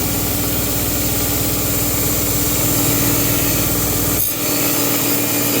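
A belt grinder runs steadily with a 120 grit belt sanding a Japanese knife under repair, a loud continuous motor drone and abrasive hiss that dips briefly near the end before resuming.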